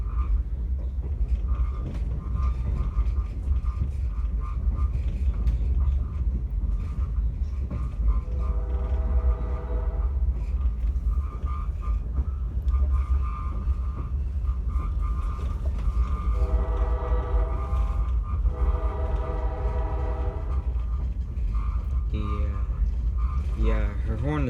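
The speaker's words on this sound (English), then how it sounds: "her horn is pretty loud" The horn of locomotive 26 on a rail line sounds several times: sustained chord blasts over a steady background of rolling train noise, with people talking at moments.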